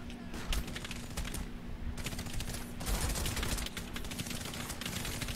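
Rapid video game gunfire, with bursts of quick cracking shots and near-continuous automatic fire. A faint steady hum sits underneath, the shots are moderately loud, and there is no clear talking.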